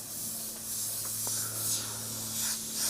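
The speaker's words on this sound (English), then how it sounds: "It's atomizing the paint." A cheap hand-held airbrush atomizing paint gives a steady close hiss of spray, with a faint low hum underneath and slight swells in the airflow.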